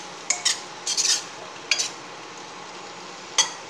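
Tomatoes sautéing in a pan for Tamil-style tomato rice, with a few scattered bursts of stirring and scraping against the metal over a soft, steady sizzle.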